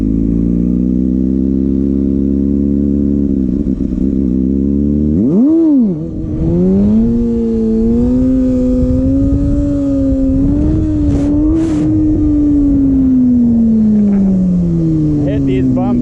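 A Kawasaki Ninja ZX6R motorcycle engine revving hard during wheelies, close and loud, with a sharp throttle blip and pitch swoops, then a sustained high-rpm drone that slowly rises and falls.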